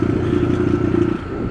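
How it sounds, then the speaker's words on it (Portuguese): A Honda CB300R motorcycle exhaust idles close by with a steady, throaty rumble and a slight uneven crackle, fading a little toward the end. "Como é que ficou o barulho da trezentona?"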